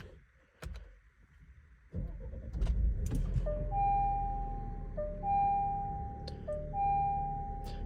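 An Alfa Romeo Stelvio starting up after a digital instrument cluster swap, with clicks and a mechanical thump, then a steady engine idle joined by repeated electronic chime tones, recorded close inside the car.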